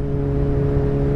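A 2008 Honda Hornet 600 motorcycle engine idles close by with a steady, even hum holding one pitch, loud and alone with no speech.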